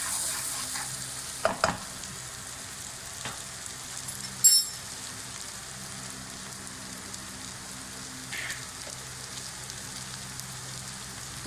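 Carrots fry lightly in a pan for a restaurant-style Chinese fried rice, giving a faint, continuous low sizzle with a few brief clinks and stirring knocks, quiet and steady with no talking.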